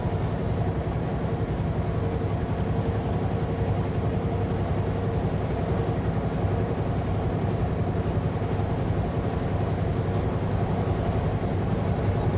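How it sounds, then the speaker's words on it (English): Train rumbling past a truck stopped at a crossing in fresh snow, steady dense low roar filling the whole span, close and continuous with no voices. "I'm just waiting for a train."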